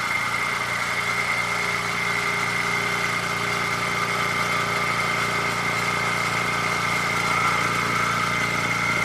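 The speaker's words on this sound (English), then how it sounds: "we're just testing out the airbrush and the compressor and see how it sounds" An AIRGOO AG-426 airbrush compressor runs steadily, giving a constant close mechanical hum with a droning motor tone and faint vibration throughout, with no voices.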